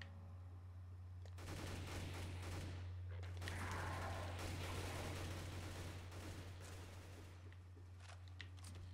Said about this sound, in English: Everyone's just shooting.